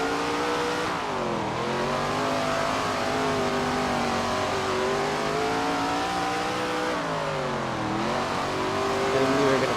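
Race car engine revving steadily in the SRX racing video game, loud and continuous with rising and falling pitch as it accelerates back to speed on an oval track after a caution.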